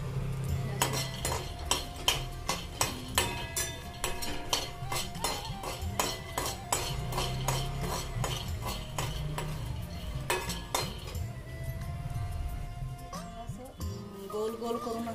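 Peanuts roasting in a pan over a gas flame are stirred steadily with a utensil, giving a repeated, close metallic scraping and rattling of nuts and pan that comes in a regular rhythm for most of the time, with a low background hum.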